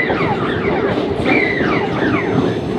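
A train passes right beside a street food stall in Kolkata, its loud rumble and clacking wheels mixed with shrill squeals and horn-like tones sweeping up and down, heard close and unbroken.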